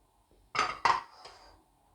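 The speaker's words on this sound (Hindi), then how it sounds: "दोनों अंडे डालूंगी" Two eggs dropped into a bowl already holding oil and sugar: two quick, close knocks and clinks in fast succession, then a softer third tap, in a quiet kitchen.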